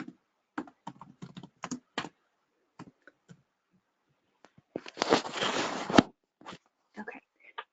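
Someone types on a computer keyboard in quick clusters of clicks separated by short pauses, with a longer burst of rapid keystrokes near the end. The clicking is close and fairly quiet.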